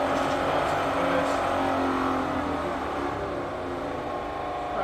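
A Bridgeport milling machine with a 42-inch table runs its spindle in reverse, giving a steady, loud mechanical whine and hum that holds even throughout with no talking.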